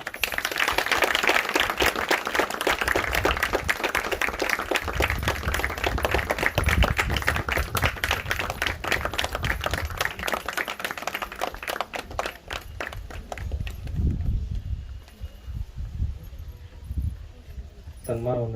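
An audience at a felicitation ceremony for an 86-year-old spiritual thinker bursts into dense, sustained applause, many hands clapping fast and close before the clapping thins and trails away near the end.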